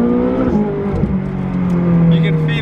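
A Ferrari's engine accelerates hard on a road in Italy, its tone climbing in pitch as the revs rise, loud and close from the car's cabin with a brief shift-like dip partway through.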